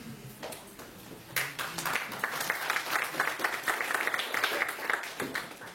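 Audience at a French-language technical talk breaks into applause after a short quiet lead-in, the clapping swelling to a moderate, even patter that carries on to the end.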